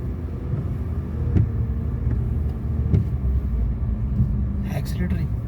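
Car engine rumbling steadily from inside the cabin during a driving lesson on a small road, a low continuous drone with a few faint knocks, while an instructor talks over it.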